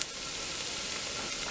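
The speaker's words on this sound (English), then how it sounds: "just warm those spices up, just to activate them again" Spices, including nutmeg, celery salt and cloves, warming in a pan for a tourtière meat pie filling, giving a soft, steady sizzle that stays even for a moment after a small opening tap.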